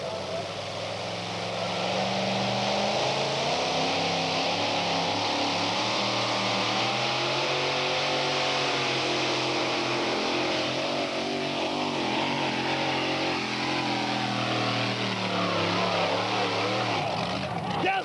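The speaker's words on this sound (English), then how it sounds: "Jim Brockman ready to test himself in the 1908 Chevy C-Cab, powered by Arius" A 1908 Chevy C-Cab, powered by Arius, roaring through a full pull at a 1989 two-wheel-drive tractor-pulling event, its loud sustained engine drone wavering in pitch throughout, with an announcer's voice over it.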